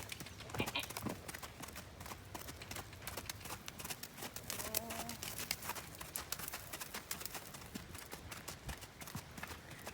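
Horse hooves clip-clopping in a brisk, steady rhythm during a gaiting lesson, continuous and fairly close, with faint talk in the background.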